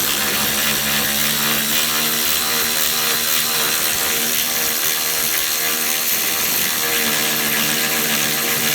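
Cordless power tool working loose the long water pump bolts on a BMW 535i, a continuous loud whirring drone with steady mechanical ratcheting, close up and filling the whole stretch without talk.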